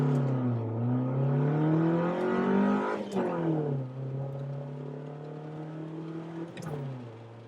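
A Honda Civic on the road, its engine note rising and falling through gear changes with a steady tyre and wind rumble, heard from inside the car at moderate level.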